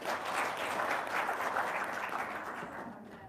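A small gathering bursts into a steady round of applause that holds, then slowly fades near the end, with many hands clapping at once.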